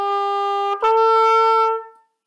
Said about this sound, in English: Even if you can just try those first 3 notes of the piece